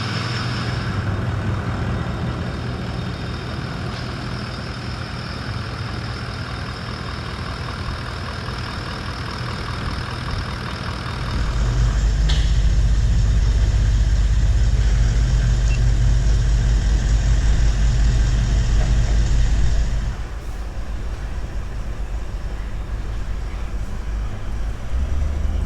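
Toyota Land Cruiser 200 Series with a freshly replaced engine, heard from inside on a test drive, a steady road and engine drone that swells louder through the middle stretch before easing back.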